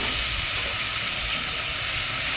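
Turmeric going into a sizzling pan while cooking prawn biryani, a dense, even hiss of hot oil that holds steady and loud throughout with no voices.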